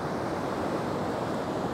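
Ocean waves wash along the coast at sunrise under a setting full moon, a constant broad rushing surf with some wind across the microphone, no voices.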